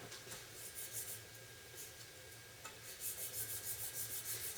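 Titanium pendant hand-sanded with 400 grit sandpaper: quiet, close scratchy rubbing strokes, irregular at first and then settling into a quicker steady back-and-forth rhythm, with no talk.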